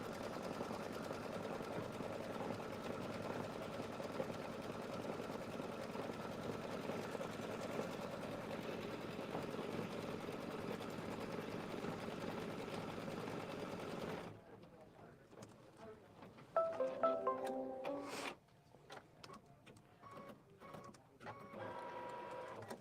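An embroidery machine stitching a watermelon design runs with a steady, busy mechanical whir for about fourteen seconds, then stops, leaving scattered clicks and thumps while a person speaks.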